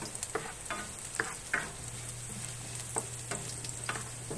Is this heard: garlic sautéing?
yes